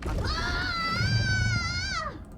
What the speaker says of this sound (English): What was that sound? Did someone scream?